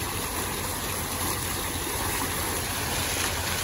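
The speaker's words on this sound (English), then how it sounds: "I don't know who amped up the power on these fountains, but yeah, they're going higher" Water fountains shooting jets high into the air produce a loud, constant rushing hiss that fills the whole scene with no pauses.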